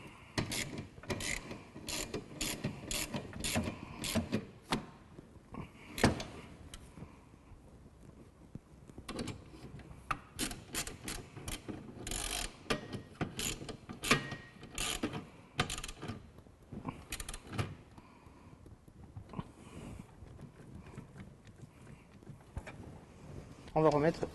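A ratchet clicks in quick repeated bursts while tightening bolts on a Renault Scénic 2 dCi during an air filter change, close up, with pauses between runs of sharp pawl ticks.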